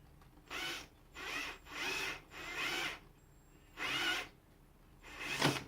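Self-tapping screws being driven with a power drill into wood, sounding as five close, loud whirring bursts of about half a second each, separated by short pauses, with a final sharper burst.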